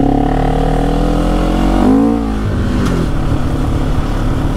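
A small quad bike engine drones loudly and steadily, revving up and dropping back midway, then settling into a rough idle.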